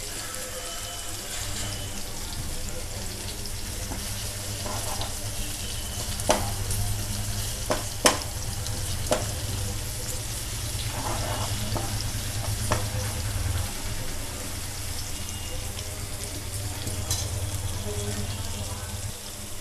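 Fenugreek leaves and chopped garlic fry in a pan with a steady close sizzle, broken by a few sharp clinks of stirring and soft splashy crackles, with no voices.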